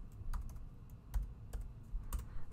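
Fingers tap a few keys on a computer keyboard at an irregular pace, giving soft, close clicks over a quiet room hum.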